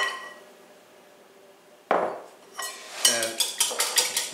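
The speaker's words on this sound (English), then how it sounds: "Into the bowl, we're going to add 3 large eggs" Three large eggs go into a big bowl, with a sudden clack followed by a quick run of sharp, ringing taps and clinks against the bowl, close and fairly loud after a quiet start.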